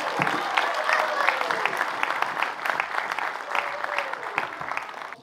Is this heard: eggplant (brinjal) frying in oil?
no